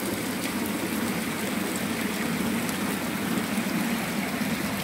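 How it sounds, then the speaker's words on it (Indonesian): Water pours steadily from a spring-fed spout at a Balinese temple, Pura Yeh Bubuh, a continuous close splashing rush with no pauses. "berupa pancuran yang airnya nanti dialirkan menuju ke lembah"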